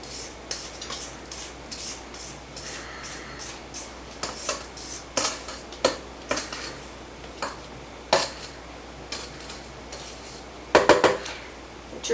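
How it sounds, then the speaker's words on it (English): Spatula scraping the sides of a mixing bowl of apple cider cookie dough, a series of irregular scrapes and light clinks, close and fairly quiet, ending with a sharper clatter. "keep scraping your bowl throughout the whole process"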